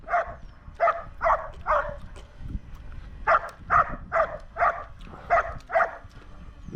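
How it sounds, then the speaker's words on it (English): A dog barks at a drone in rapid, excited bursts, about a dozen high, yappy barks in two runs with a short break between them. The barks are close and moderately loud over faint background noise. "What a crazy dog."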